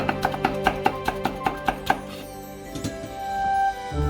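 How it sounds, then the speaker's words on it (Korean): Knife slicing a deseeded vegetable thinly on a cutting board while preparing a simple eggplant rice bowl: about ten quick, even chops in steady rhythm, close and crisp, then a pause with a couple of softer cuts. "씨를 빼고 대충 얇게 썰어줄 거예요"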